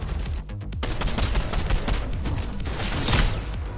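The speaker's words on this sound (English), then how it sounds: "He just sniped me through a bush." Rapid gunfire in the video game Fortnite, dense volleys of shots in fast bursts, loud and continuous with a burst-fire SMG and sniper fire in the mix.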